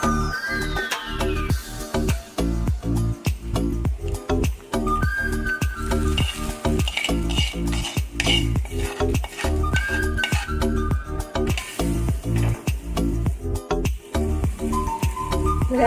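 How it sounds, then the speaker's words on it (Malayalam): A tempering fries in oil for a mango perukku curry, with a dense bubbling sizzle under rapid, regular metallic clinks and scrapes of a ladle against the pan, loud and close. "ഞാനിതിലൊന്ന് വറുത്ത് കോരി എടുത്ത് കേട്ടോ"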